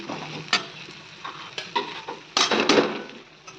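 Prawn curry being sautéed with turmeric, cumin and sugar in a pan, a spoon scraping and clanking in irregular bursts over a soft, low sizzle, close and alone.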